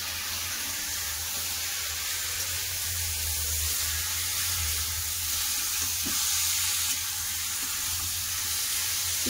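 Spice-marinated meat sautéed with browned onions in a pan for a potato and meat curry, giving a steady, even sizzle that holds at one level throughout, with only a few faint stirring scrapes and no talk.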